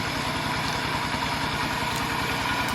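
Walking tractor engine idling with a grain grinder for milling paddy rice mounted on its front, a steady close low throbbing chug that runs unbroken and alone.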